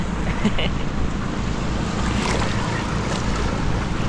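A boat crosses open sea off Sabang, Puerto Princesa in Palawan, with steady engine and wave wash under heavy wind buffeting on the microphone, continuous and close throughout.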